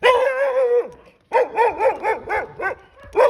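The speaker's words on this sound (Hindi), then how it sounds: "मेरे पीछे कुत्ता लग गया।" Dog barking in a burst of repeated barks near the listener, a long whining bark first, then a short pause and a rapid string of barks, loud and with no voices.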